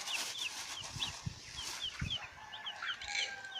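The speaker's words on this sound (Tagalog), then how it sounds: "I'm gonna give some feeds to the chicken." Chickens on a farm cluck in short, busy bursts close by, mixed with scattered chirps and light scuffling, with no talk.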